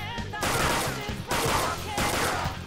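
Gunfire in Persona 5 Royal sounds as three loud noisy bursts in quick succession, each lasting close to a second, with a short gap between them.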